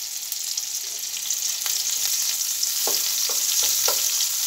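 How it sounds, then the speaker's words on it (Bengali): Chopped onions frying in a pan for a Mezbani-style broiler chicken curry, a steady close sizzle with occasional stirring scrapes and clicks, no talk. "পেঁয়াজটা একটু গোল্ডেন কালার করে ভাজি করে নেব।"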